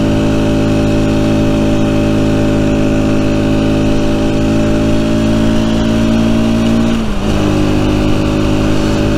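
Rieju Century 125 motorcycle engine droning loudly while riding on a country road, its pitch holding steady and climbing slightly, then dipping with a brief shift near the end.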